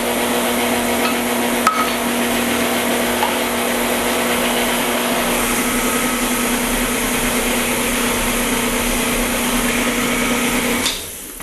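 Electric mixer blending flour and salt into cookie dough for oatmeal chocolate chip cookies, a steady loud motor whir running throughout with no talk, cutting off at the end.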